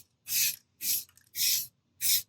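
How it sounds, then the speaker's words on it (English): Four short bursts of aerosol spray paint hissing onto old wood boards in quick succession, each about a third of a second, close and fairly quiet with silence between. "I'm going to spray in a pattern going downward."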